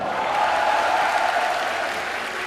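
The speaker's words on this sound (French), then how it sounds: "Et victoire en plus, applaudissements" A crowd at the Toulouse Game Show gaming convention claps after a stage win, a smooth, even spread of applause held at moderate loudness throughout.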